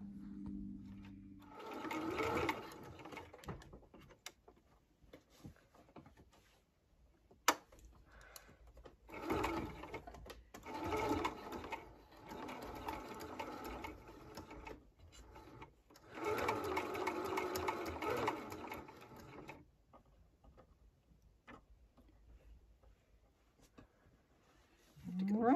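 A sewing machine stitches fabric, a close mechanical whir that runs in several bursts of a few seconds each, separated by short pauses, with no talking.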